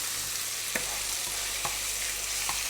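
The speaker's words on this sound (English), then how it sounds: "This is hot enough, so I put the onions." Onions sizzle in hot oil for a Kenyan meat sauce, a steady close crackling hiss with a few soft stirring clicks across a short stretch.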